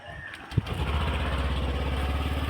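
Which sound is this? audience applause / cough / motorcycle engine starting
motorcycle engine starting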